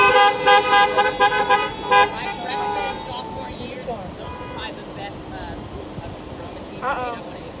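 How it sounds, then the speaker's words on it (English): Car horns honk repeatedly at a drive-in graduation, several sustained blasts overlapping at first and then thinning to occasional toots, with people talking over them. "Honk it up for DJ McKay."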